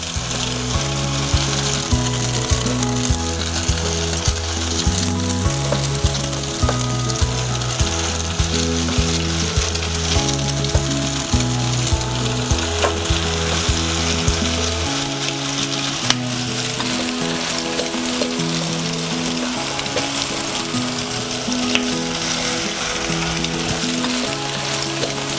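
Pain perdu (French toast) fries in a pan with a constant bright sizzle, heard under a steady, rhythmic background music track that continues throughout.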